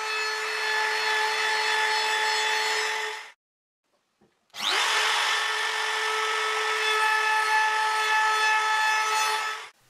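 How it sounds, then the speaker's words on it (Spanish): A wood router fitted with a round bit mills into wood. Its loud, steady, high motor whine runs for about three seconds, stops briefly, then starts again for a longer pass. "Utilicé una fresa redonda para madera."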